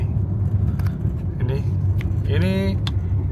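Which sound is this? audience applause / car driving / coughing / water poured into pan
car driving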